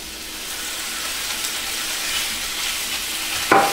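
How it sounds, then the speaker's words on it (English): Beef browning in a large electric fry pan for a beef stew, giving a steady, loud frying sizzle with broadband hiss throughout and a sharp clatter near the end as the meat is stirred. "and we're going to throw our beef in"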